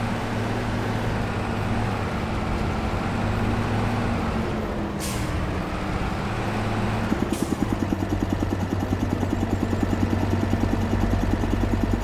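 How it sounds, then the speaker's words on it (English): A new tractor's diesel engine runs steadily in Farming Simulator 25, a low droning rumble with two short air-release hisses, the engine note turning into a rapid pulsing throb near the end, no talking. "It sounds like a new tractor would."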